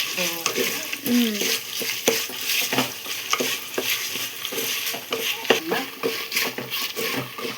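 Dried red chillies fry in a pan for a gongura chutney, with crackling sizzle broken up by frequent stirring scrapes and clinks of a spoon against the pan, close and busy throughout.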